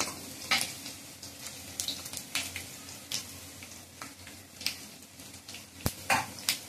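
Garlic, cumin and mustard seeds sizzle in hot oil for an aubergine bharta, a steady frying crackle with sharp pops and stirring scrapes, fairly close, no talking.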